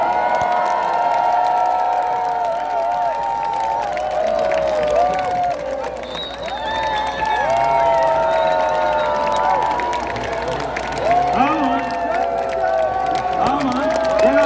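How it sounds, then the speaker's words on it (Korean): A large outdoor crowd at a Democratic Party campaign rally in a plaza in Gwangju cheers and applauds loudly as a campaign chairperson is welcomed, with whoops and shouts rising over sustained clapping that runs throughout. "한 분 한 분 뜨거운 박수로 환영해 주시면 감사하겠습니다"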